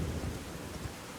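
Rain falls steadily with low rumbles of thunder during a night storm in the Elden Ring video game, a soft continuous wash with no talking.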